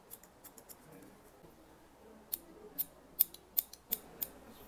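Scissors snip a middle-aged man's hair during a cut, close and crisp, first in a quick run of light snips, then a spaced series of louder, sharper cuts over a quiet room.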